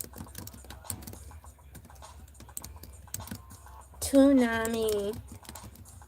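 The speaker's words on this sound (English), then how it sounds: "So I'm typing in" Light, scattered clicks of typing on a computer keyboard run steadily at low level, with a voice briefly speaking near the end.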